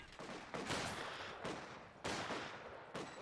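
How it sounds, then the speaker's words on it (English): An MG42 machine gun fires in a Company of Heroes 2 battle, heard as repeated dense bursts of rapid gunfire, several sustained volleys in a row, moderately faint and distant-sounding under general battle noise. "MG42 firing away."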